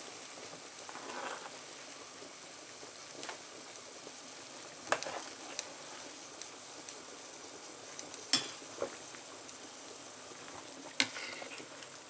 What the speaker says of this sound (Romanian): Iar acum așteptăm să fiarbă cartofii și pieptul de pui.